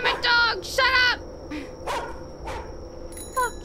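A dog barks in the Chilla's Art horror game The Karaoke, giving several loud yips and barks in short bursts, with a voice talking over and between them.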